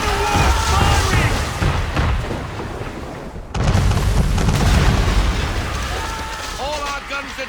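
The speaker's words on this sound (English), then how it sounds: "Man of war firing!" A man-of-war warship fires its cannons in the Assassin's Creed III video game, heavy booming blasts rolling under shouted voices, with a sudden break and then another loud barrage.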